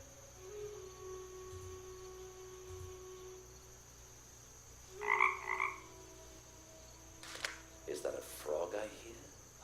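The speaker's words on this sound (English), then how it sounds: "Is that a frog I hear?" In the adventure game Night of the Rabbit, a frog croaks in short, bright bursts in the middle and again near the end, set against a quiet ambient backdrop with faint tonal game sounds.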